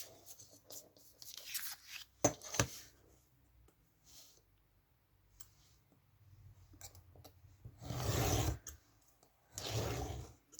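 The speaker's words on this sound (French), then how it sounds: "Si je coupe pas en une fois, c'est pas grave. On repasse une deuxième fois et c'est bon, c'est coupé." A craft knife cuts through paper for a handmade turtle card, with two sharp nearby clicks early on and later longer scratchy passes of the blade, separated by quiet pauses.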